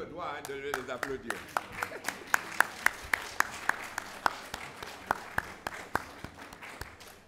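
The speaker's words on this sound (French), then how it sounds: "Vous avez le droit de les applaudir." A church congregation at a Sunday worship service claps in a steady, evenly spaced rhythm, each sharp clap standing out over a faint sung or spoken voice in the background.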